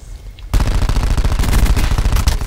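Sustained rapid automatic assault rifle fire in Call of Duty Black Ops 4, loud and close, an unbroken burst of overlapping shots after a brief quiet start.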